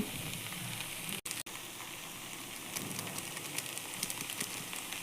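Food frying with Maggi masala in a Bengali home kitchen, a steady crackling sizzle with a brief cut near the start and brighter pops toward the end, with no talk.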